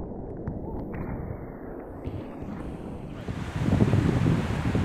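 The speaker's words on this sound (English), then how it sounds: "These waves are knee high, and look at the trouble they give us." Knee-high ocean waves breaking on a surf beach, a steady close wash of surf with wind buffeting the microphone, swelling louder toward the end, no voices.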